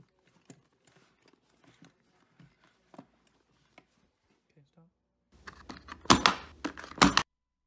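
Box end wrenches clink and jangle together in a tool bag in a short burst of sharp metallic rattling near the end, after a stretch of faint handling sounds.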